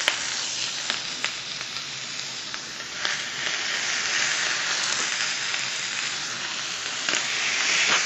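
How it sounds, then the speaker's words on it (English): Swordfish and artichoke skewers wrapped in pancetta crisp on a grill with a continuous loud sizzle, broken now and then by small pops and crackles that build slightly toward the end. "Ooh, they are sizzling,"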